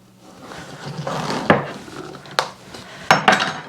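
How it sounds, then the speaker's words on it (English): A knife chopping through a giant zucchini to cut it in half, with scraping strokes and several sharp wooden knocks against the board, close and with no talk. "Just cut the pumpkin in half."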